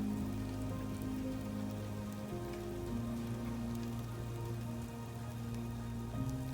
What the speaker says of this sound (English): You can see along the base of this fence where all the sleet hits the fence and rolls down and accumulates a little quicker.